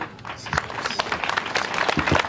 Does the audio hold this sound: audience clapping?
yes